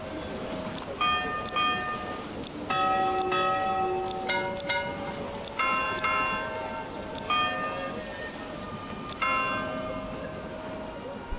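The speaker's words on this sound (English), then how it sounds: "Which reminds me, you can change the bell," The standard church bell of a Manor Lords village tolls repeatedly in a steady, full-bodied series of strikes about a second or so apart, each ringing out over quiet in-game ambience.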